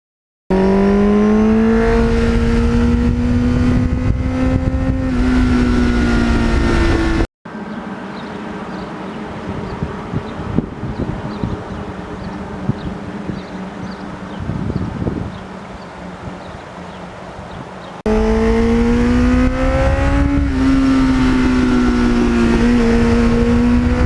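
A 1983 Suzuki XN85 Turbo motorcycle on the road, its engine rising and falling in pitch as it revs and shifts, loud and close, with a wind-buffeted middle stretch where the engine recedes under the rush of air.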